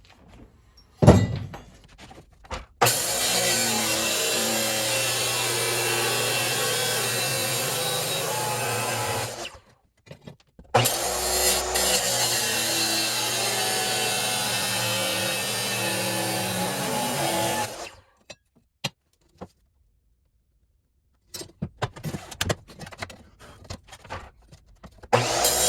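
A power saw cutting metal pieces for a mini bike frame in a workshop, two long steady grinding cuts of several seconds each separated by a pause, followed by a few clanks and knocks as parts are handled.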